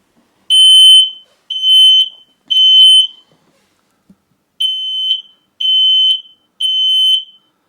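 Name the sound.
battery single station smoke alarm test sounding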